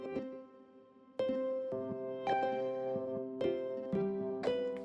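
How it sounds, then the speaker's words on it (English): Processed synth harp from Soundiron Sonespheres Limitless, a sequence of plucked, bell-like notes struck one after another in a moderate rhythm, each ringing with glassy sustain and echo, played close and clear without talking. "It's going to sound like a processed harp."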